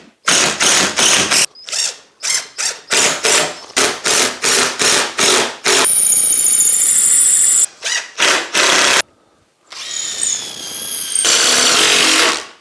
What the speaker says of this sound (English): So I've got to put these screws in so they're absolutely spot on.